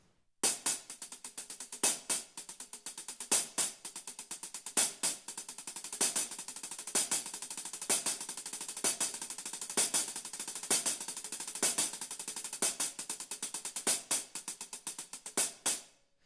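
A drummer plays an accented six-stroke pattern slowly with bare hands. Sharp, close strokes fall in a steady rhythm with regularly recurring louder accents, alone, for about sixteen seconds.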